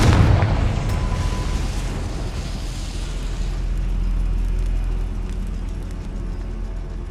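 A Confringo spell blast in Hogwarts Legacy: a loud fiery burst at the start that rolls into a long, deep rumbling roar, fading slowly with crackling debris.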